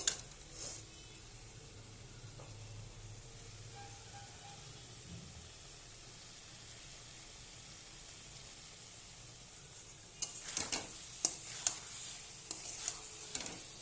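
Masala being stirred and fried in oil until the oil separates, a faint steady sizzle under quiet room noise, then near the end a burst of sharp scraping and clinking spoon strokes against the pan.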